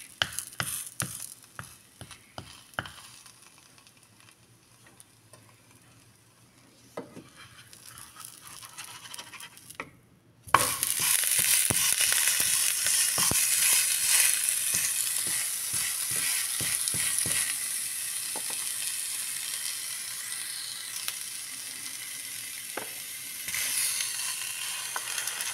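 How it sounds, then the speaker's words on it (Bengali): An uttapam frying in a little oil on a pan, a light crackle with clicks and handling at first, then after a brief pause a louder, steady hiss of oil that continues to the end. "আজকে রাতের মেনু উত্তাপাম, অল্প তেলে একটু ফ্রাই করে নিচ্ছি।"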